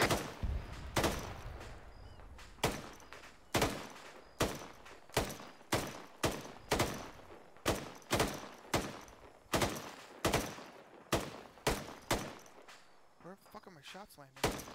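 Gunfire in the military shooter game Arma 3: a steady run of loud, sharp shots, single and in short bursts, cracking about every half second to second across the whole stretch.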